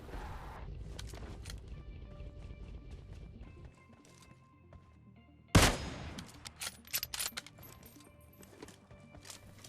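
Gunfire in the video game PUBG Mobile: a low background hum, then a sudden loud shot followed by a scatter of quicker, sharper cracks and faint clatter.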